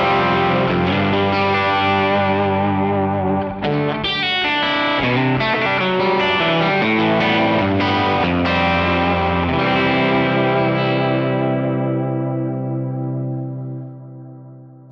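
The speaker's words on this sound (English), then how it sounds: "let's go get like what crunching effects. Let's see here, dual crunch tape echo." Guitar played through a dual crunch tape echo preset in the Blue Cat Axiom amp and effects plugin: gritty distorted chords and notes with repeating echoes, loud and up front, ringing out and fading at the end.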